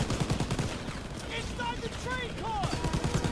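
Rapid gunfire in the World War II shooter Call of Duty WWII, bursts of automatic shots rattling at the start and end, with whistling and whining effects in between and a voice talking over the action.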